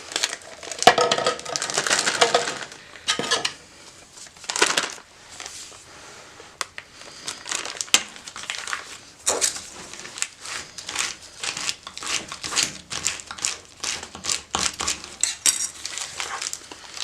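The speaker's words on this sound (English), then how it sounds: "You don't need to sit here and watch me scrape these containers" Scraping of cold process soap batter out of containers with a utensil, repeated scratchy strokes and clinking in irregular bursts with short pauses, close and clear, no talk.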